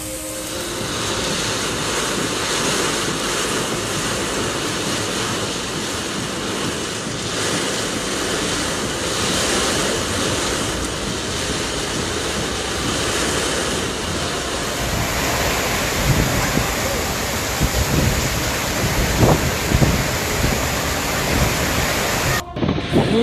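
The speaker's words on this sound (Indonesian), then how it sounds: "Hujan disertai angin dan disertai gemuruh geledek." Heavy rain roars steadily with gusting wind buffeting the microphone, a dense continuous wash of noise growing rougher toward the end, during a storm with thunder in Depok, Indonesia.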